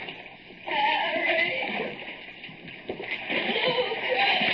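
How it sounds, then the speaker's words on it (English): Water laps and sloshes soggily in a flooded tunnel as a radio-drama sound effect from a 1949 broadcast, a steady wet splashing heard beneath a voice speaking throughout. "Water lapping soggily at my chest."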